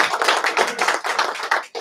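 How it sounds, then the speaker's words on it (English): Audience clapping at a management development program session, a dense patter of many hands sustained for under two seconds with quick rhythmic bursts, fairly close and without talk. "give a big clap for that"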